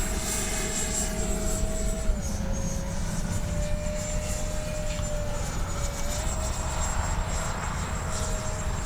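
A Freewing L-39 2X radio-controlled model jet with flaps up climbs out of an inverted loop, its electric ducted fan whining steadily with pitch shifts as it passes, heard at a distance with constant wind and field noise beneath.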